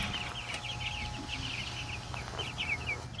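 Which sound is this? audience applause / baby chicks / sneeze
baby chicks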